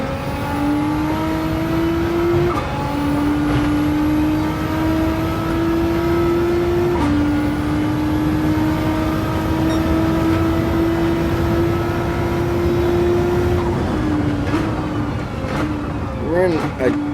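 Race car engine in the Gran Turismo 7 video game, a loud, sustained high-revving whine that climbs steadily and drops at gear shifts through a tight section of track, with someone commenting over it.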